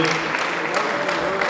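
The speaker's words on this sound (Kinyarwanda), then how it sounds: "umuha amashyi" Wedding guests applaud the groom, a steady crowd clapping that runs continuously under a loud announcer's voice speaking over it.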